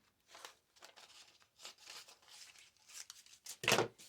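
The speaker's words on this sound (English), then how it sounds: "Well, let me cut it. I need some scissors." Close, quiet snipping and crinkling of paper in short repeated bursts, ending with a louder crunch.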